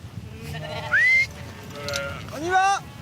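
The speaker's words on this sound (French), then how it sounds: "200 brebis et leurs agneaux, qui sont toujours très pressés de retrouver les prés salés" Ewes and lambs from a flock of about two hundred sheep, heading out to the salt meadows at Mont-Saint-Michel, bleat in two clear calls, one short and high, one longer and wavering, over soft background noise.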